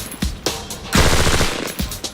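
An IAR automatic rifle fires loud, close bursts of support fire, with short volleys separated by brief pauses and then a longer sustained burst.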